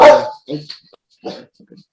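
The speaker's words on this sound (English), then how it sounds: "Dog making a cameo." A dog barks loudly once, then gives a few quieter yips and whimpers in a short burst near the microphone.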